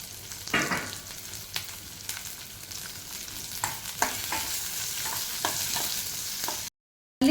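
Chopped onion frying in a pan for radish chutney, a steady hiss of sizzling oil broken by occasional stirring scrapes and clicks, close up, ending in a brief silence.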